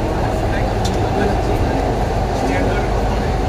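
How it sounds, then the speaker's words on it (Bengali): A metro train running through the tunnel beneath the Ganga river, heard from inside as a loud, unbroken rumble with a steady roar that persists throughout. "এটাই হলো গঙ্গার নিচ থেকে মেট্রো যাচ্ছে"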